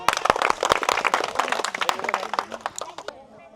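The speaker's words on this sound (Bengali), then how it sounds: "আর একটা করতালি দেয় সবাই।" Children at a village fishing contest clap together, a quick scattered patter of handclaps that tails off, with voices mixed in.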